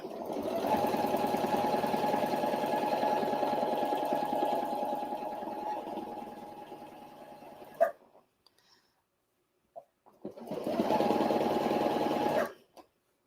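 A sewing machine stitches steadily for about eight seconds, loud and close, then stops; after a short pause with a few faint clicks it runs again for a couple of seconds before halting, with a freshly changed needle.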